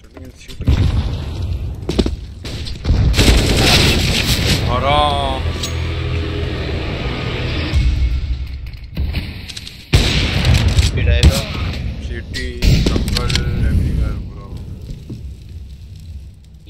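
Gunfire in the shooter game CS GO, bursts of rapid shots and booms recurring through the stretch, with voices and in-game callouts heard between and over the firing.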